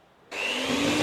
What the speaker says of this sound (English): before I hit it with the blender.